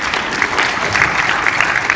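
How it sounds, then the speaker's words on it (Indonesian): Steady, dense applause from an audience at a provincial NTT development planning meeting, a continuous loud wash of many hands clapping with no pauses. "Tepuk tangan dulu buat kita semua dong"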